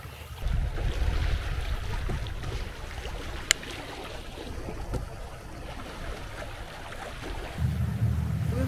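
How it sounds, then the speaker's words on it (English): A sailboat heads out of San Remo, Italy, on a quiet sail, with steady wind and water rush against the hull and a faint low rumble throughout. "It's been a very quiet sail out of San Remo today."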